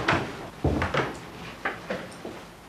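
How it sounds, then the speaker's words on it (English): A wooden office door and its handle heard nearby: a series of knocks and thuds, with one heavier bump and then several softer clunks and a latch click as it shuts. "Close the door."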